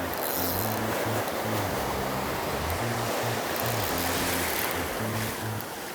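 Surf rolls and breaks steadily on an open beach at Shark Island on the Carolina coast while anglers cast for red drum, a continuous close wash of waves with a low rumbling swell and no talking.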